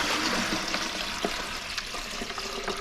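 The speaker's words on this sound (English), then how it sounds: "I'm going to take this relatively clean water here, dump it into this bucket" Relatively clean water from processing wild clay is dumped into a bucket, a steady close splashing pour with a few brief spatters and no voices.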